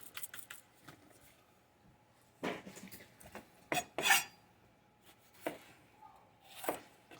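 A knife cuts around peppers on a cutting board, giving a handful of irregular crisp slicing snicks and light knocks against the board, fairly close, with quiet pauses between and no talking.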